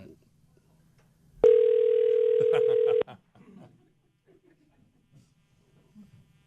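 A single steady telephone tone sounds for about a second and a half, loud and continuous, with quiet talk and small noises before and after.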